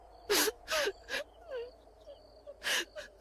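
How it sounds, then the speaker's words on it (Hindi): A woman crying as a sound effect in a horror story: broken sobbing wails and gasping breaths in separate bursts with short pauses between them, close and fairly clear, with no talking. "तभी किसी की रोने की आवाज आई।"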